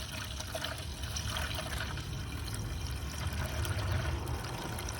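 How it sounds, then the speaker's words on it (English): Windshield washer fluid pours into the reservoir of a Ford F-150, a continuous soft trickling and gurgling of liquid that is faint and steady throughout, with no talk. "you can fill the reservoir up to the very top with the windshield washer fluid"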